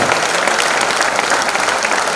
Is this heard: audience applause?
yes